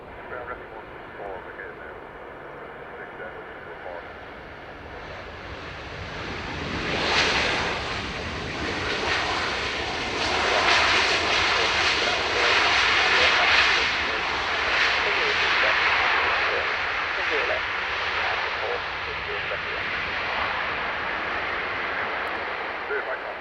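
A Ryanair airliner landing on runway 10 left at Dublin Airport: a steady, distant jet rumble that swells to a broad roar at touchdown and rollout, with air traffic radio voices talking over it.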